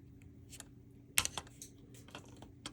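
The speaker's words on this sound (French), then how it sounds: "Donc il reste juste à couper les pattes qui dépassent." Small cutters snip the protruding leads of new capacitors on a vintage computer power supply board. A few faint, sharp clicks and snaps come close by in a quiet room.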